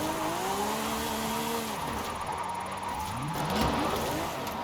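A Lamborghini Aventador Ultimae with 1100 horsepower slides sideways in Forza Horizon 5, its engine whining and shifting pitch while the tires squeal through the drift, loud and continuous.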